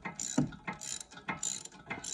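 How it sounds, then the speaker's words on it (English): Ratchet wrench turning a rear brake caliper piston clockwise on a VW Tiguan with electric parking brake, a close series of rapid clicking ratchet strokes in about four bursts, no talking. "Let me get my wrench here. And just screw it in clockwise till it stops."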